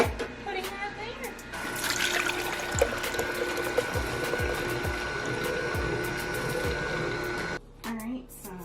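Foamy green juice runs through a Namawell strainer attachment, a steady liquid trickle and pour mixed with the whir of the juicer, while a voice talks over it; near the end the pour stops and only a low hum remains.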